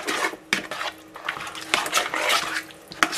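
A spoon stirs chicken wing marinade in a kitchen bowl, giving wet swishing with a few sharp clinks and knocks against the bowl's side.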